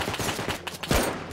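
Gunfire in Rust, a quick burst of rapid shots followed by a heavier single report near the end, loud and close, with no voices.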